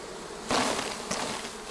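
Honeybees buzz close by at a hive during mite-resistance breeding work, a dense hum that swells suddenly partway through and stays loud, with a second brief surge after.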